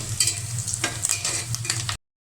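Onions frying in oil with bits of fat and meat before khichuri is cooked. A soft, close sizzle comes with clicking, scraping stirs for about two seconds, then stops abruptly into silence.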